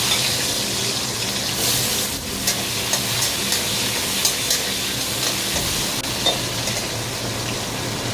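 Potatoes coated in salt and turmeric go into hot oil in a home Bengali kitchen, giving a steady sizzling hiss with a few stirring clatters and bumps throughout.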